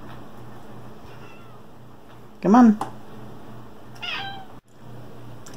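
A cat meows once loudly and close, then gives a fainter second meow, at kitten food indoors; someone speaks softly before it, over a low steady hum.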